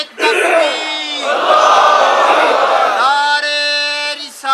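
A large crowd at an annual religious spiritual gathering in Chakwal roars a slogan in unison, a loud sustained massed shout of many voices that swells and holds for several seconds before tapering off.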